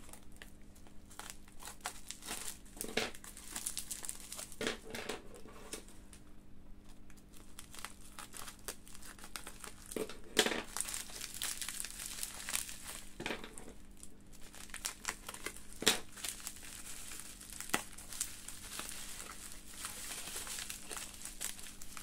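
Plastic packaging crinkles and crackles as it is cut open with scissors, in irregular bursts of rustling and sharp crackly snaps spread across a quiet background, close up, with no speech.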